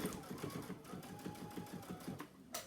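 A sewing machine stitches a craft bag in quick, even mechanical bursts, close and moderately quiet, running steadily for a couple of seconds before stopping with a short clatter.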